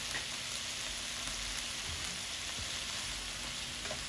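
Bean sprouts sizzle in a hot pan for a shrimp and snap pea stir fry, giving a steady, even crackle at moderate volume with no talking.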